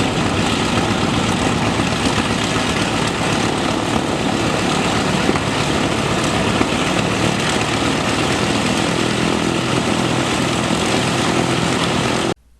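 Focke-Wulf 190 warplane taxiing in at the Military Aviation Museum, a loud, steady propeller engine drone held close and constant for about twelve seconds before cutting off abruptly, with no talk.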